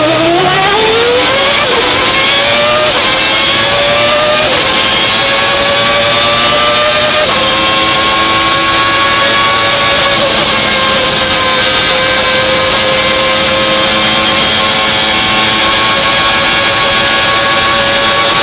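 A Williams FW14B Formula 1 car from 1992, its 15,000 RPM Renault V10 driving through straight-cut gears, screams loudly and close, rising through several quick upshifts with sharp gear whine before holding a sustained high-pitched howl.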